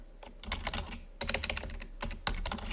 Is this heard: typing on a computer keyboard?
yes